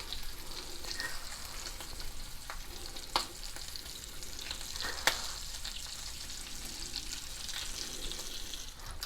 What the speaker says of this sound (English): And we're going to whisk these together.